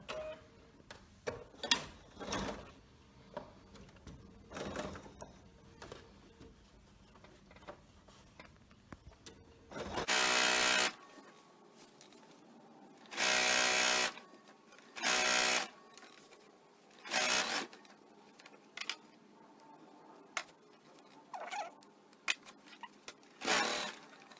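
Bursts of a sewing machine stitching binding onto a homemade fabric face mask, several short runs of steady mechanical whirring separated by pauses and small handling clicks, close and clear with no talking.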